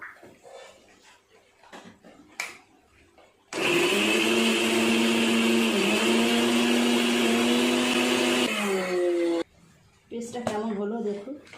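Electric blender whirring loudly for several seconds as it grinds tomato and other ingredients into a paste, starting abruptly and cutting off, with someone talking before and after.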